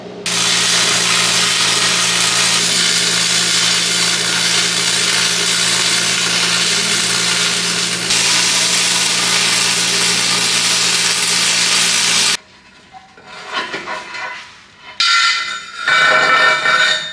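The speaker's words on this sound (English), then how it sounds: "Now let's weld it in." Welding a steel pipe anvil with the welder turned up: a loud, continuous harsh crackling hiss holds steady for about twelve seconds, then cuts out, followed by quieter intermittent bursts and a final short loud spell.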